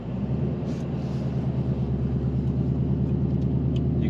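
A 2024 Mustang GT V8 rolls off the clutch without gas, a steady low burbling idle rumble with an even pulsing rhythm, close and continuous with no revving.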